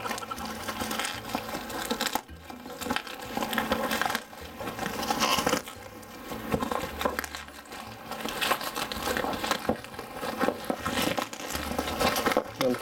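Bubble wrap and sticky tape crinkle and tear as a ring light package is opened, a steady close crumpling and rustling with brief pauses and no talking.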